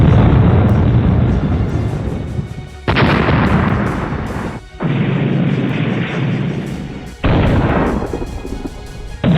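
Hezbollah rocket strikes on the Israeli-occupied Golan Heights: a series of loud, heavy booms and rumbling blasts, each sustained roar breaking off abruptly before the next, close and powerful with no voices.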